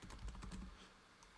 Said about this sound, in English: as I start typing windshield